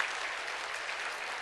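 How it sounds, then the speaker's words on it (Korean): A church congregation applauds its choir, conductor and accompanist, giving steady, dense clapping that fills the whole moment without any voices over it. "우리 주의자, 반주자, 모든 대원들 함께 박수 한번 하겠습니다."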